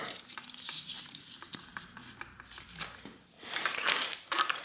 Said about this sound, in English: And so I'll pull the old handlebar tape off here like this